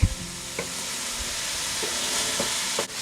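Pre-chopped garlic sizzles steadily in a hot pan, a constant frying hiss with a few soft clicks of a utensil stirring; close and moderately quiet, no talking.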